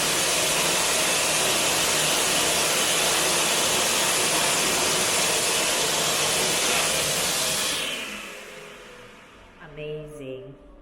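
Loud, steady blast of air from an infrared hand dryer in a public restroom, running close and continuous for about eight seconds, then cutting off and leaving quiet room tone with faint movement.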